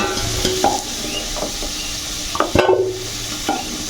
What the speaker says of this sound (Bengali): বন্ধুরা, আমার প্রায় আলুগুলো ভাজা হয়ে গেছে।